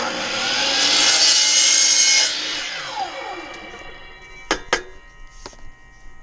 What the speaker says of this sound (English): I'm using a power saw